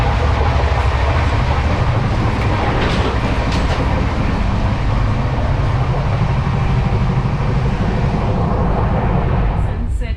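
A Mumbai Rajdhani express train runs along the rails, its steady loud rumble and rhythmic clickety-clack filling the whole stretch with no pauses.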